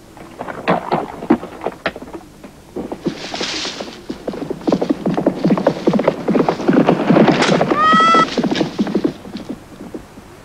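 Horses in a Western film galloping with rapid clattering hoofbeats throughout, close and loud, with a clear whinny rising near the end over the continuing thunder of hooves.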